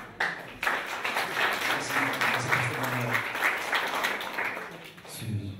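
An audience at a round-table discussion applauds in a dense, steady burst of clapping that swells after a brief pause and holds for about five seconds.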